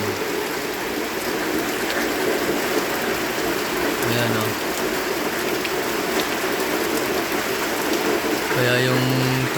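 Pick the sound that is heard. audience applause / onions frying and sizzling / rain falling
rain falling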